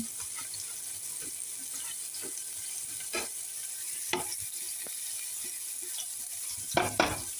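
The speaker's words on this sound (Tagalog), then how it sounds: "So, lutuin ng kunti ang sibuyas at garlic para lumabas ang aroma." Onion and garlic fry in a pan for pancit, giving a steady sizzle with occasional clinks and scrapes of stirring, close and fairly even.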